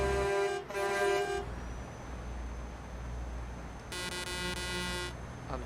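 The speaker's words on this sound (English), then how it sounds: "This one's got the train horns on." Two long, deep multi-tone blasts from train-style air horns fitted to a truck in a trucking video game, the first lasting over a second and the second following after a pause, loud over a low rumbling engine.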